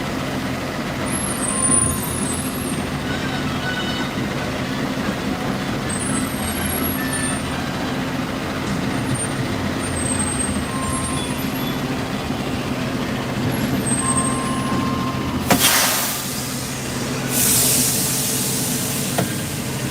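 A truck rumbles steadily, then two loud bursts of hissing air brakes erupt close by, a couple of seconds apart.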